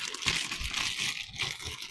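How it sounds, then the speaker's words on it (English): A plastic bag holding freshly picked beans being pressed closed and sealed, close crinkling and rustling of the plastic for a couple of seconds. "take yourself a plastic bag and pop them in, seal it up"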